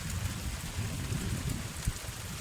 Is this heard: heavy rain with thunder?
yes